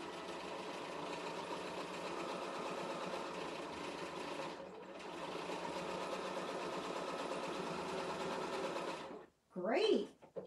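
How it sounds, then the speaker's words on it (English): Steady close whirr of a BERNINA sewing machine running a double needle to stitch a hem on cotton, one brief pause midway, then the motor stops and a short voice follows. "So I've made a really nice decorative stitch, and I've hemmed my fabric at the same time."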